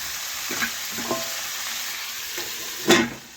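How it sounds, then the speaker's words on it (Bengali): Vegetables, including bitter gourd, are stirred in a frying pan with a steady sizzle, punctuated by a few scraping strokes of the spoon and a louder clatter near the end. "এইভাবে নাড়াচাড়া করে রান্না করে নিয়ে কিছুক্ষণের জন্য আমি ঢাকা দিয়ে দেব।"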